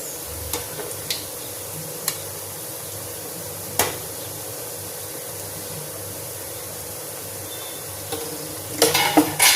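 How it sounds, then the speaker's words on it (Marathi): Grated fresh coconut snacks frying in hot oil, a steady low sizzle throughout with occasional sharp clinks of a utensil against the pan and a burst of louder stirring and scraping near the end. "आता हे तळत असताना थोडासा जास्त वेळ लागतो"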